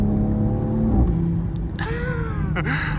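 Toyota Supra exhaust shifting from third into fourth gear: a steady loud engine drone whose pitch drops at the shift, then climbs again with rising revs, close and continuous with no talk.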